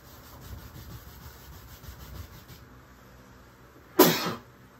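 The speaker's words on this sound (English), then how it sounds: "Man, that was a good sneeze." A sharp, loud human sneeze bursts out suddenly near the end after several seconds of quiet brush rubbing and faint room sound.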